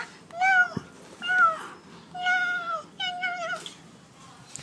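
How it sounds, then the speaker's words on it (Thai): A cat meowing four or five times in a row, clear and close, each call rising and then falling, with short pauses between calls against a quiet background. "อันนี้ปอเปี๊ยะปอเปี๊ยะที่เป็นแมวปอเปี๊ยะจ้า"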